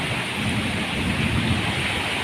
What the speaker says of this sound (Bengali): দেখো আমাদের এদিকে তো প্রচুর বৃষ্টি হচ্ছে।